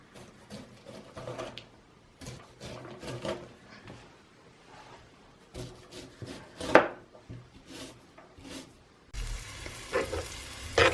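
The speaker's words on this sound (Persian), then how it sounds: "پیاز رو با روغن تفت میدیم تا به رنگ عسلی که در." Diced onions frying in a few spoonfuls of oil in a pan for a stew, with soft sizzling, stirring scrapes and clinks coming in uneven bursts, and a louder steady sizzle near the end.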